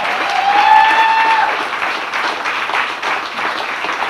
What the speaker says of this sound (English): Let's give one more hand of applause for these guys.